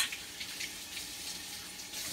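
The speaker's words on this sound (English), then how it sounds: "I'm going to just rinse it off, make sure it's good and clean." A clean plate rinsed under a running kitchen tap gives a steady, soft hiss of flowing water with slight splashing variation, close by and unbroken, no voices.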